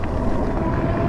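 Fat tires of an Ariel Rider X Class 52-volt e-bike roll over a gravel road, a continuous low rumbling crunch mixed with wind buffeting the microphone.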